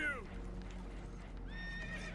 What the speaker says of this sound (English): Save the horses!